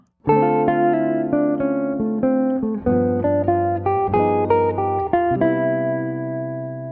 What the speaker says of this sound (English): Our next lick covers the all-important 2-5-1 chord progression and sounds like this.